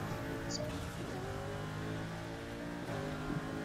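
A car engine in the Burnout Paradise video game drones and revs steadily throughout, loud and continuous, with gear-shift changes in pitch and a brief higher whine near the start.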